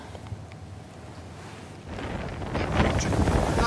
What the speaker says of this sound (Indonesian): Kencangnya terjangan angin membuat aktivitas di kota lumpuh sementara